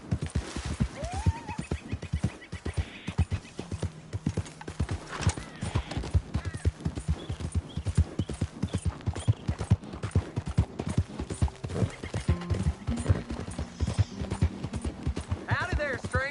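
Steady clip-clop of horse hooves on the ground in the Red Dead Redemption 2 western video game, a continuous close rhythm with occasional whinnies, game music and brief talk underneath.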